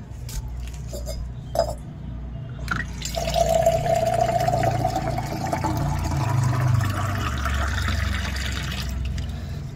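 Water trickles and splashes over a Shiva idol during a ritual bath on the first Monday of Shravan, with light clinks of metal puja vessels and a steady pour building in the middle, close and fairly quiet.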